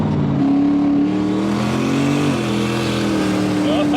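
A 700hp turbocharged, LS-swapped Foxbody Mustang accelerates hard into second gear, its engine droning loud and close from inside the car and the pitch climbing and dipping at the shift.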